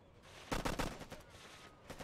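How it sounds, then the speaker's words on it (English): Burst of gunfire in the military shooter Operation Flashpoint: Cold War Crisis, a loud rattling volley of several rapid shots near the middle, followed by scattered fainter shots in a noisy battlefield ambience. "Gunfire from inside the town"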